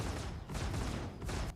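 Distortion cannons fire in rapid bursts in the Star Citizen space game, a dense, loud barrage of crackling blasts that keeps going without a break.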